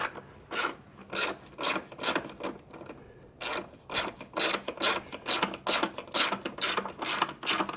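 A hand ratchet with an 8 mm socket and extension turning spark plug coil screws on a Jeep Wrangler 3.6L engine, rapid bursts of clicking in a steady back-and-forth rhythm, close and loud with no talking.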